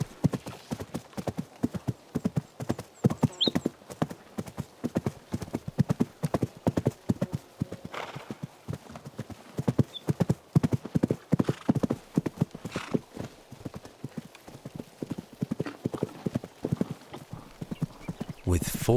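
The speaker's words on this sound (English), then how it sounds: "The foals have been well fed by their mothers" Horse foals galloping in a rapid, continuous drumming of hooves, with a faint neigh amid the running.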